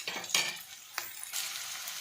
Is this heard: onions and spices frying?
yes